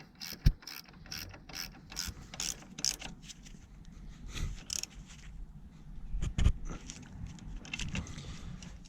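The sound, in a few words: ratchet tightening bolt on car AC hose bracket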